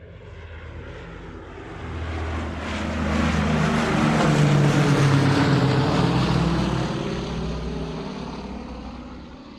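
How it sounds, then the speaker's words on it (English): A propeller airplane drones steadily in flight, swelling louder toward the middle as it passes close, then easing off, a continuous engine hum with no voices. "Let's get back on the plane again."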